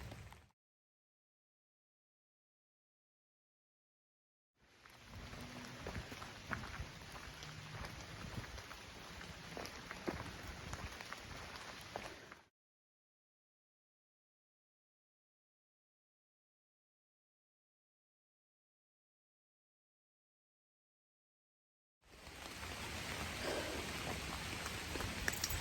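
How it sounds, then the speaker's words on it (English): Steady rain falls on a mountain trail in two sustained stretches of even, dense hiss, broken by a long silent gap, with no voices. "the rain keeps getting heavier"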